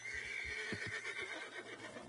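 A horse in the video game Red Dead Redemption 2 neighs in a short, loud whinny with a fluttering, breathy tail, heard alone without talk.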